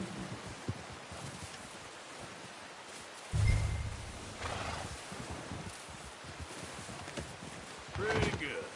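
Horse in the Red Dead Redemption video game, with clip-clop hoofbeats and a whinny over rustling outdoor ambience, a loud thump partway through, and a voice speaking briefly.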